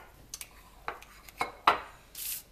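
A spatula or scraper scraping the sides of a mixing bowl of chunky topping mixture for a Mexican lasagna pizza, giving several short, quiet scrapes and light clinks at close range, with no talking.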